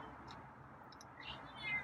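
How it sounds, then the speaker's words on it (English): A feral cat meows a few times, short faint calls at a distance against a quiet, low background hum. "Okay, that's a meow."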